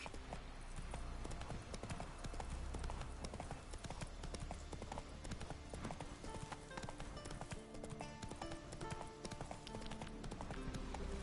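Horse hooves galloping in The Witcher 3 video game, a steady rapid clip-clop that runs throughout under a dense bed of game sound, with no voices heard.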